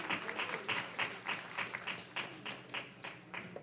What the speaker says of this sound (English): Give another hand clap.